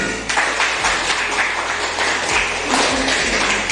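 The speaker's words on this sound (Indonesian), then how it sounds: "Tepuk tangan, nak." Children clapping in a classroom, a short burst of many small hands applauding together, fairly loud and close, with faint voices underneath.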